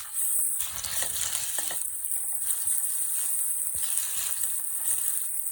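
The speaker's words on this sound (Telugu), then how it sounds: "చాలా బ్రౌన్ కలర్ వచ్చిన తర్వాత 1 స్పూన్ అల్లం వెల్లుల్లి పేస్ట్ వేసుకొని ఫ్రై చేసుకోవాలి" Chopped onions browned in oil sizzle steadily with the spoonful of ginger garlic paste added for a dhaba-style paneer masala curry; a continuous close hiss runs throughout, with a few soft stirring scrapes and no voices.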